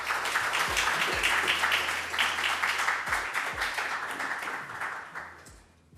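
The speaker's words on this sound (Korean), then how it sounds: "큰 박수로 맞아주시기 바랍니다." An audience applauds at a health policy forum in the National Assembly members' office building, a dense, steady clapping from many hands that fills the room and then tapers off toward the end.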